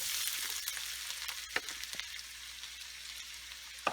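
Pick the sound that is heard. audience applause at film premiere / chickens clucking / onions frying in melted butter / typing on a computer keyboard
onions frying in melted butter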